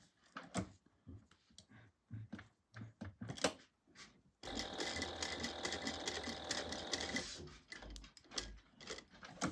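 A sewing machine runs in one steady, fairly loud burst for about three seconds while a fabric tag is basted onto a crossbody bag. Irregular clicks and handling knocks of the work come before it, with a few more after.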